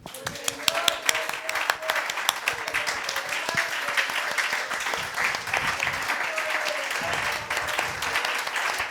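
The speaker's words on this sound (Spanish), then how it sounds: "Un aplauso al Señor." A church congregation applauds during an evening Sunday service, steady dense clapping sustained throughout at moderate loudness, with voices calling out and speaking over the applause.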